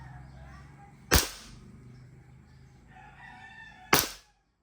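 Two sharp shots from an Army Armament R501 gas airsoft pistol, freshly charged with gas, each a loud close crack about three seconds apart over quiet room noise.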